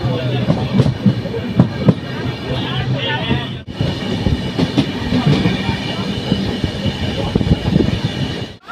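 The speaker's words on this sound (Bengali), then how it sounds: "দেখতে দেখতে আমাদের ট্রেন প্রথম হল্টে ঢুকে পড়েছে বর্ধমান জংশনে।" The 13053 Kulik Express passenger train runs on the rails toward a junction, heard from inside the carriage as a loud rumble with rhythmic clicks and clanks over the wheels, plus a brief dip partway through.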